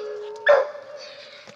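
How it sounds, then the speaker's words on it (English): A 16-week-old puppy in a fenced outdoor dog run gives one short, fairly close bark midway, over a steady faint tonal hum with no talking. "It's my little puppy right there."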